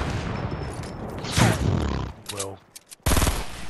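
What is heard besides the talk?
gunshots from a video game sniper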